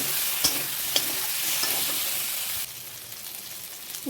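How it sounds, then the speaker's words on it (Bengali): Egg and potato frying with tomato and spices for an egg curry, a steady broadband sizzle with a few sharp spoon scrapes and stirs, quieter after the midpoint. "দিয়ে দেব ডিম আলু মশলার সাথে মিশিয়ে"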